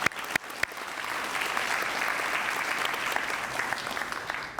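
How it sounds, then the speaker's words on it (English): Sustained audience applause at a city's annual State of the City address, steady broadband clapping from a large crowd after a couple of sharp claps at the start, no talk over it. "So let's give him a round of applause."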